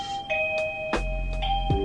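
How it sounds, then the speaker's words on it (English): A wireless doorbell in an upper elementary classroom sounds a two-tone electronic chime, several clear ringing notes with small clicks between them and a low hum entering partway through. "before I forget, the doorbell"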